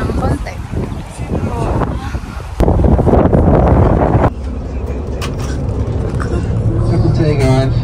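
Wind buffeting a microphone outdoors, a steady rushing roar with gusty surges, joined by a vehicle's hum, while people talk over it.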